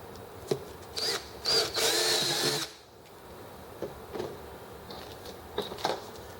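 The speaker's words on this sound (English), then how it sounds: "I like to do the two far screws that I have, and then do the center screws" A power drill drives screws into a new case handle, with short whirring bursts in the first few seconds followed by quieter intermittent clicks and handling noises.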